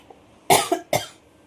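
Two coughs from a person with a cold at home, the first a sharp double burst and the second a single cough just after, both close and fairly loud against a quiet room.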